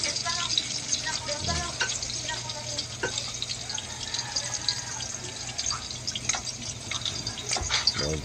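Bamboo shoots (labong) sauté in a pan with a continuous sizzle and light stirring scrapes, and a voice talks over the cooking at moderate volume.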